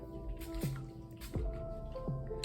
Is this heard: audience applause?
no